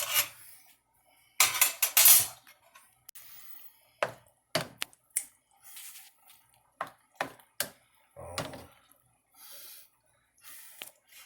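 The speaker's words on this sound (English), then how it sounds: "Let's stir that up." A spoon scrapes and stirs thick sauce in a pan in a home kitchen, giving irregular close rubbing and clinking strokes with short pauses between them, with no talk.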